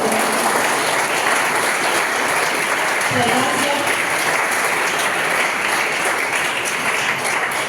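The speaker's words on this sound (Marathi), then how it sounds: "टाळ्या वाजवायच्या" Audience applause at a stage event where guests are being invited up: a steady, dense wash of clapping filling the whole stretch at an even level, with a brief voice surfacing partway through.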